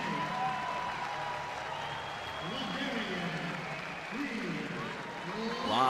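Crowd at a Big 12 college wrestling championship applauding and cheering after a bout, a steady roar heard under a commentator's voice.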